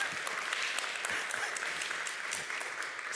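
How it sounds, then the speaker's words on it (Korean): A church congregation applauds during a Sunday sermon, with a continuous wash of many hands clapping at an even, moderately distant level. "누군지 모르는 그분에게 박수 한번 줄까요?"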